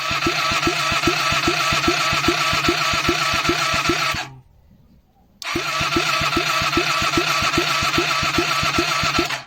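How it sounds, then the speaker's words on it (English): A Hyosung GT250 motorcycle engine cranks over with the ignition on and no fuel, loud and close, in a steady rhythmic chug of compression strokes. It stops for about a second, then the cranking resumes. "Ignition on, clutch in. Hey, and it's got compression, good compression."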